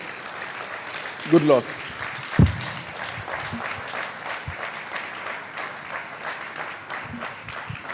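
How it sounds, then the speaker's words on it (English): An audience claps steadily at an annual foundation celebration, a continuous soft applause under a brief spoken phrase and a couple of louder thuds nearby. "Can we sustain that applause for a few more seconds?"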